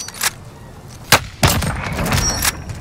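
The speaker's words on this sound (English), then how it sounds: "A shot." Sharp gunshots from a Warzone match ring out in a few separate bursts, loud and close, with brief pauses between them and a steady game ambience underneath.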